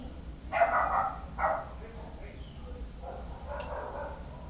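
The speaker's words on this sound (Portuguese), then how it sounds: "tem um cachorro, filha da puta, latindo aqui" A dog barks twice in quick succession at a moderate distance, followed by quieter yips over low background noise.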